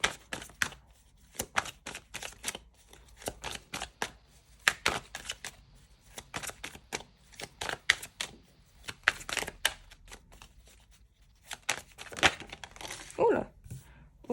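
Tarot cards being shuffled and drawn, heard as repeated crisp, papery riffles and slaps in short bursts across the stretch, fairly close and moderately loud, with quieter handling between bursts and no talk over it.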